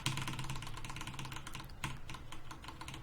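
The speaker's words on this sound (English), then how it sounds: "You can probably hear me tapping the keyboard." Computer keyboard keys tapped steadily while playing the racing game TrackMania Turbo, a dense run of close, quick clicks continuing for a few seconds with no talking.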